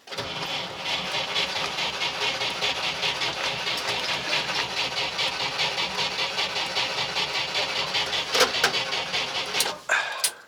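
A car engine cranks and then runs in a fast, continuous chugging rhythm for several seconds, close and fairly loud, before a few sharp clicks and a brief dip near the end.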